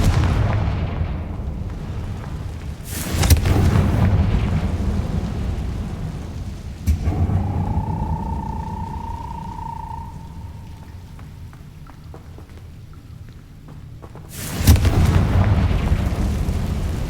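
Confringo fire spells from Hogwarts Legacy burst as heavy booming blasts, two loud impacts several seconds apart with rumbling tails, a sustained whistling tone rising between them, no voices.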